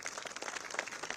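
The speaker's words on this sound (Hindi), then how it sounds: "तो एक बार जोरदार तालियां होनी चाहिए।" Dense crowd applause at an electric heater distribution event, a steady wash of many hands clapping at moderate volume with no voices on top.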